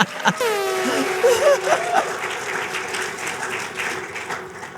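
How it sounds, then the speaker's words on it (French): An audience applauds a presenter's outfit at a church speaking event, a burst of clapping that swells then carries on steadily, while a voice sings or calls out over the start and some light laughter mixes in. "Est-ce qu'on peut applaudir pour la tenue?"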